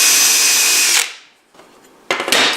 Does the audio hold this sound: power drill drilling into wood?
yes